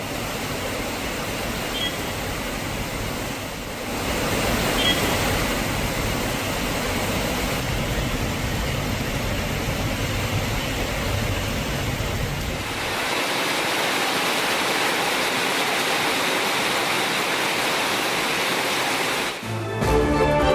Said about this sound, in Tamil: நீலகிரி மாவட்டம் கூடலூர் சுற்றுவட்டார பகுதிகளில் வெளுத்து வாங்கிய கனமழை.